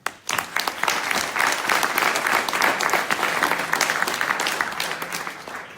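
Audience applause for a speaker at the Speck&Tech tech meetup, a full room clapping in a dense, steady wash that starts abruptly and holds loud before easing slightly toward the end, with no talk over it.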